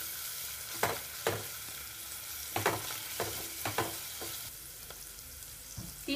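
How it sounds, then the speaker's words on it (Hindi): A spoon stirs kasuri methi into fried golden onions and ginger-garlic paste sizzling in a pan. Soft scraping clacks come in an irregular rhythm over a steady, gentle frying hiss, close up and with no talking. "कसूरी मेथी भी डाल देते हैं, थोड़ा चला लेते हैं।"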